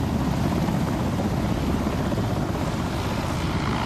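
A military helicopter hovers over a stadium during a rappelling display at Ghana's 63rd Independence celebrations, its rotor and engine making a loud, steady, unbroken drone throughout with no talking.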